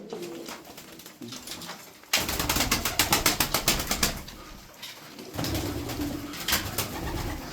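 Tumbler pigeons coo in low, throaty bursts while a sudden flurry of wings claps rapidly nearby, then the cooing continues close and steady.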